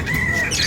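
A bird at a pet market gives a single shrill, rasping squawk, loud and close, with no talking.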